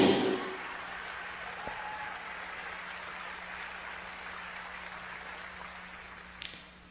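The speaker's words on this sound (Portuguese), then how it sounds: "Eu não sei porque vocês estão aplaudindo" Steady audience applause at a sermon fills the room for several seconds, a broad even clatter of many hands that begins with a louder burst and slowly thins.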